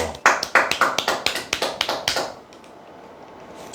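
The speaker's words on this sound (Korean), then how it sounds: "네, 박수!" An audience at a lecture claps about a dozen quick, sharp claps in a crisp, even rhythm, then falls quiet.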